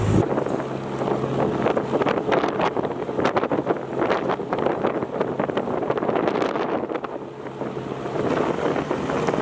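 Wind gusting over a tidal river at about 10 knots while a narrowboat turns against a 6-knot tide, a steady close rushing buffet on the microphone with no voices.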